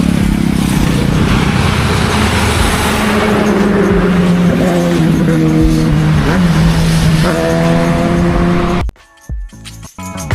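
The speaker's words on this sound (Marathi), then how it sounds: "बायकरची खूपच गर्दी आहे आपल्या जुन्या मुंबई पुणे हायवेला" Dense motorbike and car traffic on the old Mumbai-Pune highway near the Khandala ghat: continuous loud engine roar with rising and falling revs from several bikes passing close, ending with a sudden drop to quieter rumble and clicks.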